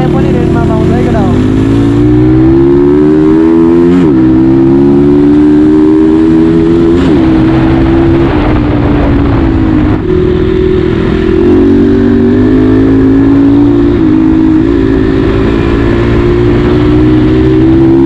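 A Yamaha RX100 two-stroke motorcycle engine revs loudly and continuously at Lakeside, its buzzy note rising and falling in repeated throttle blips, close to the microphone.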